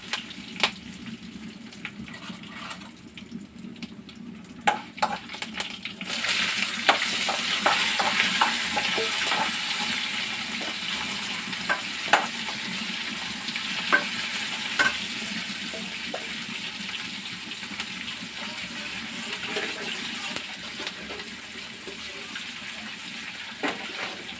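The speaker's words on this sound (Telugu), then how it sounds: "తర్వాత కరివేపాకు, నెక్స్ట్ దొండకాయలు వేసేద్దాం" Curry leaves and ivy gourd pieces drop into hot oil in a pan, setting off a sudden, sustained sizzle, with scattered clicks and scrapes of stirring through the frying.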